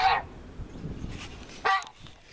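Geese in a farm pen give a couple of honking calls, one at the very start and another near the end, with quieter rustling and low background noise between them.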